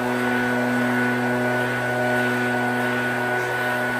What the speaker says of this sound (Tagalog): Blower ang ginagamit, talagang matinding blower para maingay.